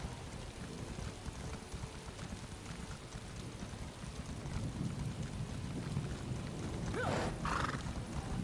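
Horse neighing and whinnying with steady clip-clopping hooves in a video game, the hoofbeats running throughout over a rain-like background wash, with a clear whinny near the end.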